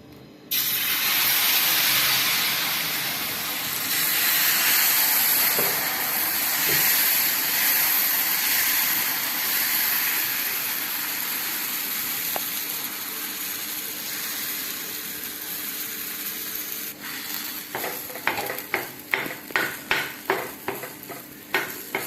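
Manathakkali adai dosa batter sizzles on a hot, oil-greased griddle, a steady loud frying hiss that fades slightly before sharp scraping clicks and taps of a spatula take over near the end.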